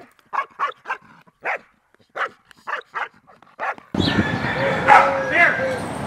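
A protection dog in guard training barks and snarls aggressively, loud and close. Short spoken bursts come first, then the dog breaks into a dense, continuous outburst.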